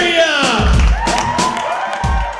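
Audience cheering and applause with whoops for comedian Joe DeFuria at The Venue of Scottsdale, a loud, dense crowd roar with rising shouts over steady clapping.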